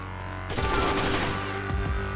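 Dense rapid gunfire erupts in the Terrorist Hunt video game, a loud sustained burst of automatic shots after a brief quiet lead-in, continuing with scattered cracks to the end.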